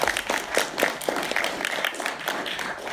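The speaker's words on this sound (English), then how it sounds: "That deserves a round of applause." An audience applauds at a panel discussion on millennial voting: a sustained patter of many hands clapping, steady and moderately loud for the whole stretch, with no talk over it.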